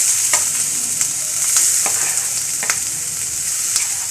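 Grated coconut sautéed in ghee, a bright continuous sizzle with intermittent sharp scraping clicks of a spoon stirring in the pan, close and steady with no talking.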